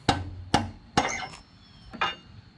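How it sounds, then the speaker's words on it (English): Rubber mallet tapping a Jeep Wrangler anti-rock sway bar's torsion bar through its brackets, four dull knocks in a slow uneven rhythm, close and moderately loud with faint ringing metal. "Tap the torsion bar through with a rubber mallet until they're equal lengths on both sides."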